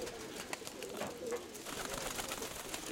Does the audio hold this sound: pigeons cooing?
yes